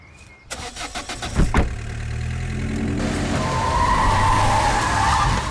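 A car skids loudly to a stop nearby, a sharp tyre screech over a rising engine rumble that keeps running steadily afterward.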